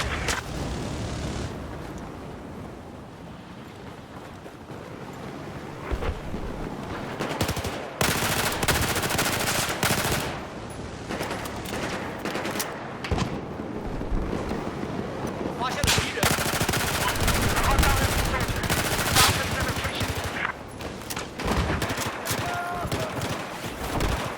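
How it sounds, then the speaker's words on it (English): Enemy machine gun fire rattles through a chaotic large-scale Battlefield 4 Conquest battle on Paracel Storm, with bursts of automatic gunfire and distant explosions filling the whole stretch at steady, dense intensity. "Enemy machine gun south of where you are."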